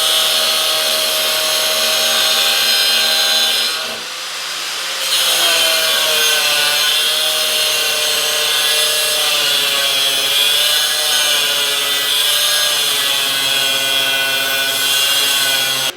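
A power saw slicing through a piece of metal during a Honda Civic suspension rebuild, a loud, continuous grinding whine that briefly drops off and then resumes for a sustained cut, close up.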